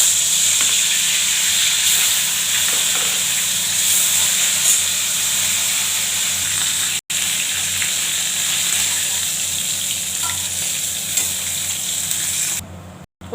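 Fish frying in hot oil in a home kitchen, a loud continuous sizzle and hiss throughout, briefly cut off near the middle and again at the end, with no talk over it.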